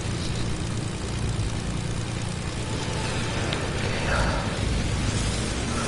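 Steady droning engine of an airplane in a video game, flying slow and close to stalling, a constant low hum and whoosh with little change in loudness throughout.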